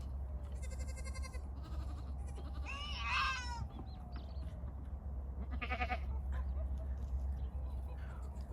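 A young goat kid bleats loudly in a few strained, wavering cries on a farm, its head stuck in a watering can, with other goats' calls and a steady low hum in the background.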